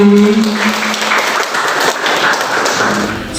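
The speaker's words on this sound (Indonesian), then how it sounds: "Semuanya tepuk tangan untuk diri sendiri." Schoolchildren in a classroom clap for themselves in a short burst of applause with some thumps and taps, close and fairly loud, with no talk over it.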